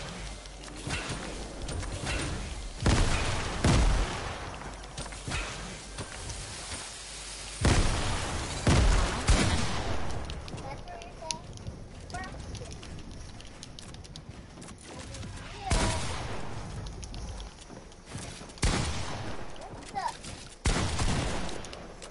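Video game gunfire crackles in rapid bursts, with loud repeated shots and short pauses, mixed with in-game effects while players chat over the shooting.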